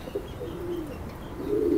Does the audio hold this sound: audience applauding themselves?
no